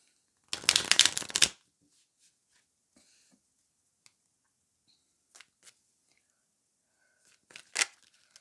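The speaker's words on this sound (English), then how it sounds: "So let's shuffle the cards" Tarot cards are riffle-shuffled once in a quick, crisp burst, followed by scattered soft taps and one more brief card snap near the end.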